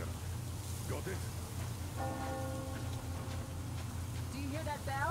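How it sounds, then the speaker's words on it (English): A bell rings in the Metro Exodus video game, a clear tolling tone over a steady wash of rain and ambient noise. "Do you hear that bell?"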